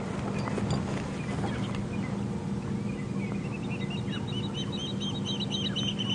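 Birds call around the Buffelshoek Waterhole at Djuma Game Reserve during a morning safari, with repeated faint, distant chirps and honk-like calls over a steady outdoor rumble.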